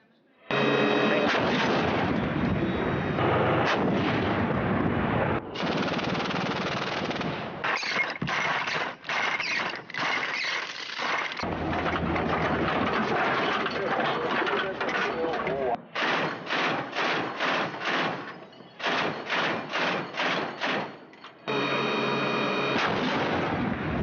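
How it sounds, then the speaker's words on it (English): Heavy weapons and tank fire in a Syrian army battle near Palmyra, repeated loud booming blasts and rapid gunfire bursts in choppy, clipped segments, with speech in places. "Syrian government forces used various heavy weapons and tanks to remove ISIL from strategic positions in the region"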